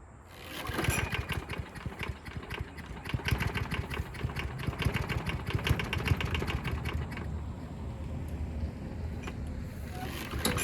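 Lawn mower engine running steadily, a rapid buzzing putter that rises after a quieter start and holds at moderate loudness, close by, with no speech over it.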